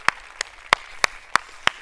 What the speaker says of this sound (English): Big round of applause for Ellen Rowe, please.